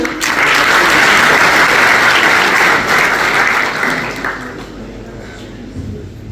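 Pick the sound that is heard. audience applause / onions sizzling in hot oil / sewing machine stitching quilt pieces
audience applause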